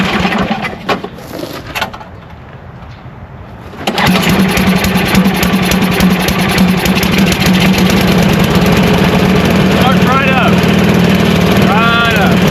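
A small engine, freshly rebuilt with a cleaned carburetor and exhaust, coughs briefly, falls quiet, then starts and settles into a steady, loud, close idle that holds to the end.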